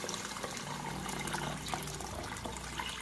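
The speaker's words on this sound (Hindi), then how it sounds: "तकरीबन 6 गिलास में पानी शामिल करूँगी" Water gushes steadily into a pot for fish head soup, about six glasses poured in, a continuous splashing, bubbling rush heard close and alone.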